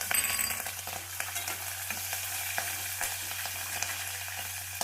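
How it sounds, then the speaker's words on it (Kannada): Green chillies fry with browned onions in oil for vegetable rava upma, giving a steady close sizzle with light spoon scrapes and a low hum underneath, no voices. "ಮೆಣಸಿನ್ಕಾಯಿ ಹಾಕೊತಾ ಇದ್ದೀನಿ"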